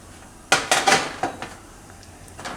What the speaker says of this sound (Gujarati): હવે આપણે ગેસ ચાલુ કરશું. આની ઉપર આ તંદૂર રાખી દે